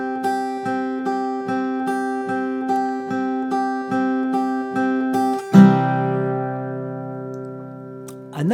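Fingerstyle acoustic guitar picks a song's introduction as a steady, evenly spaced run of plucked notes over ringing open strings, ending on a struck chord that sustains and decays, with no voice.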